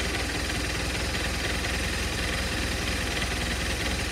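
A 2007 BMW R1200RT motorcycle engine with a converted fuel float runs at a steady idle, a close, even low throb with a constant mechanical patter and no voices.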